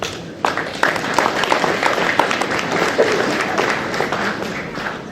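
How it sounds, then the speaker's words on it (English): An audience at a Holstein dairy cattle show applauds throughout, with scattered sharp claps over a steady roar and some murmuring crowd noise beneath. "Let's give her a nice round of applause."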